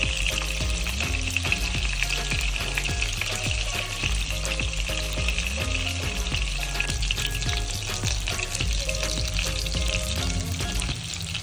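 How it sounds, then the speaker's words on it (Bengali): Chicken kofta balls, bound with mashed potato, fry in a pan as part of a kofta curry, giving a loud, steady oily sizzle with occasional stirring scrapes throughout and no voices. "কোফতাগুলো প্রায় ভাজা হয়ে গেছে।"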